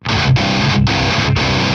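A heavily distorted, high-gain electric guitar through a JCM amp emulation chugs in short, tight bursts, three or four percussive chunks separated by brief choked gaps, loud and dry with no talk.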